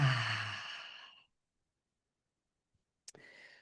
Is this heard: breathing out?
yes